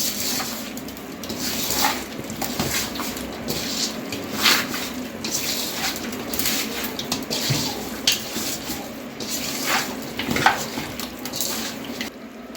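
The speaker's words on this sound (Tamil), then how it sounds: "இப்போ கறி கூடவே மசாலாவெல்லாம் கலந்து வச்சுக்கலாம்." Wet squishing and stirring as chicken is mixed by hand with yogurt, rock salt and masala for butter chicken, soft irregular squelches and clinks repeating steadily throughout.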